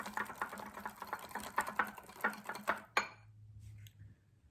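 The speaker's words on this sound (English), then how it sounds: "And just mix it well." Cupcake batter of all-purpose flour and baking powder is stirred briskly in a bowl, a rapid run of clinking, tapping spoon strokes that stops abruptly, leaving a low hum.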